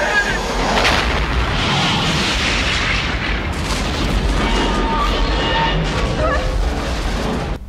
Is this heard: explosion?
yes